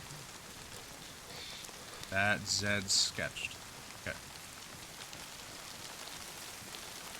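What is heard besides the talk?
rain falling in the video game DayZ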